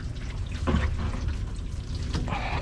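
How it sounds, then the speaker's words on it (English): Excess water is squeezed out by hand, a short spell of splashing and dribbling liquid with a couple of brief louder gushes, faint and close. "squeeze all of this excess water"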